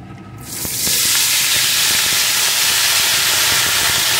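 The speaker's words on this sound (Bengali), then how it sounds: "ফোড়নগুলো ভেজে নিয়ে এর ভিতরে আমি কয়েকটা সবজি দিয়ে দেবো।" Vegetables hit hot spiced oil with a loud hissing sizzle that swells within the first second, then holds steady and close, with faint stirring clicks and no talk.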